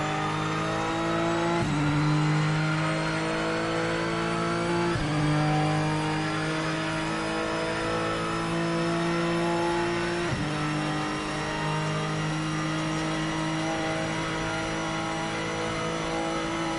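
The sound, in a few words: race car engine revving in Project Motor Racing video game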